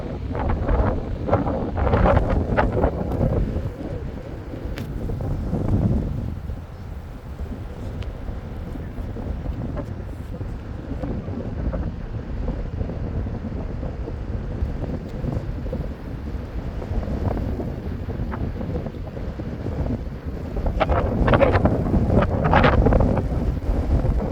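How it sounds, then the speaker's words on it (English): Strong wind blowing outdoors beside a creek, loud rumbling gusts buffeting the microphone, rising and easing in waves throughout with no speech. "I'm sure you can hear the wind."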